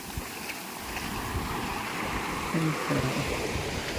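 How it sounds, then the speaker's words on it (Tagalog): Steady roar of surf and rushing water with wind buffeting the microphone, a continuous wash of heavy waves nearby, at night in Puerto Galera. "Wow! Laki ang alon."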